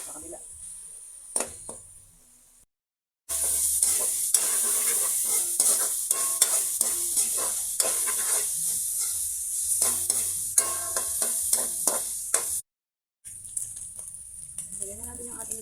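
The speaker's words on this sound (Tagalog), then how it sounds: "Lagyan na natin yung ating karne habang nagigisa yung ating rekado." Meat and aromatics sautéing in a pan for Filipino laing, with loud steady sizzling and frying hiss, stirring scrapes, and brief pauses where the sound drops out.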